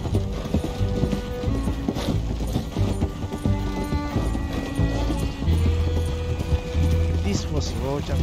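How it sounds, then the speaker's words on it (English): A horse gallops in the video game Red Dead Redemption 2: steady, rhythmic hoofbeats, continuous and close, under game music and someone talking. "This horse is so slow."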